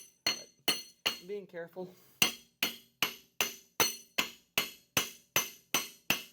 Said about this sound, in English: Don't recommend doing this, pounding on a pulley, because you can break it or bend it